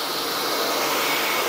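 A Cecotec Conga Rockstar 1500 Ultimate ErgoFlex vacuum cleaner runs on medium or high power picking up spilled sugar, a loud close continuous motor roar with a broad hissing airflow and no talk.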